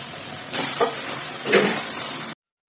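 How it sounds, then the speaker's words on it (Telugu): Tomato puree and masala paste frying in a pan for a taro root and dried fish curry, with a steady soft sizzle and a couple of stirring scrapes, fairly quiet and close. "టమోటో ప్యూరీని మసాలా పేస్ట్ని ఒకదాని తర్వాత ఒకటి వేసి బాగా వేయించుకోవాలి"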